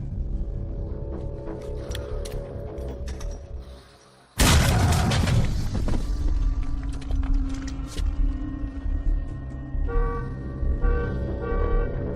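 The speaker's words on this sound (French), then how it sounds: "Grenade!" A grenade detonates in a film scene, a sudden loud booming blast after a brief hush, followed by rumbling debris and ringing aftermath tones.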